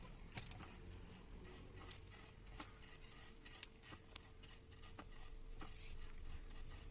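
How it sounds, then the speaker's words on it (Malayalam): Vermicelli (semiya) frying in ghee in a hot pan, stirred to turn golden brown; a soft, quiet sizzle with scattered scraping and light clicking from the spoon against the pan. "ഗോൾഡൻ ബ്രൗൺ കളർ ആവുന്നവരെ നമുക്കൊന്നിങ്ങനെ വറുത്തെടുക്കാം."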